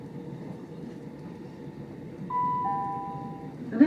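Southern passenger train running between Horsham-line stations in Sussex, a steady low rumble inside the carriage with a thin rising tonal whine joining partway, fairly quiet and close, no talking.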